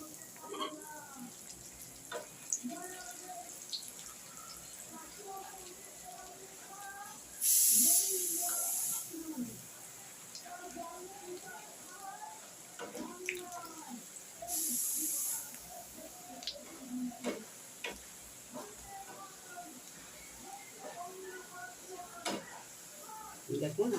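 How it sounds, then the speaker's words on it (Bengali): Potato pakoras crackle softly in hot oil during their second frying, a faint steady sizzle under continuous talking, with two brief bursts of sharper hiss. "এখন আমি আবার দ্বিতীয়বার করে এটা ভেজে নিচ্ছি।"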